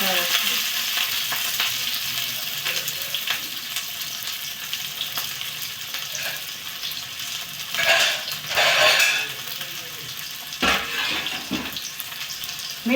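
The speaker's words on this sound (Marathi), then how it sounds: "कांदा फ्राय" Onion frying in a pan for a Marathi-style vegetable dish, a steady close crackling sizzle throughout, with louder bursts of stirring and scraping around the middle and near the end.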